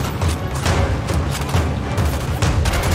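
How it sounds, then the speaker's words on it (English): Video game gunshots and environmental effects in a dense, overloaded mix, with rapid booming shots and thuds layered into a continuous loud rumble, no talking. "we lose a lot of clarity in the gunshots and effects"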